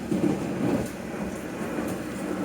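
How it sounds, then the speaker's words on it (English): A London Underground Metropolitan line train runs at speed past Dollis Hill alongside a Jubilee line train bound for Stratford, giving a continuous low rumble and rolling roar, steady and fairly close, with no voices. "Here we are at Dollis Hill racing a Stratford bound Jubilee line"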